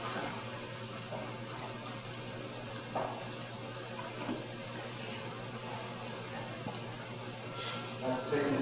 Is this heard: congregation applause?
no